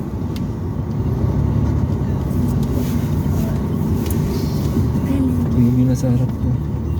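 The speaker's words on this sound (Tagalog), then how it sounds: "Sobrang traffic." Heavy road traffic heard from inside a vehicle: a steady low engine and road rumble fills the cabin throughout, with passing vehicle noise and people chatting over it.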